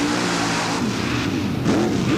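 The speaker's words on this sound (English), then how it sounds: "it's an S10 Chevrolet, but it's powered by the Oldsmobile engine, Gary." A loud Chevrolet S10 mud racing truck with an Oldsmobile engine roars and revs hard, pitch rising and falling in quick sweeps as it races past amid crowd noise.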